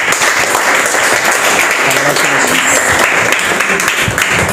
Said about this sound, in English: So clap for Sheikh Zeba.